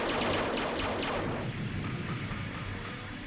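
The Mega Particle Cannon fires in the strategy video game Gihren's Greed, a loud, dense roaring blast with rapid pulsing bursts that fade into a rumbling tail.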